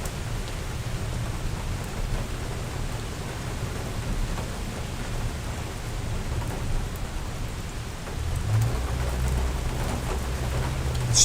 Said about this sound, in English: It's pouring here.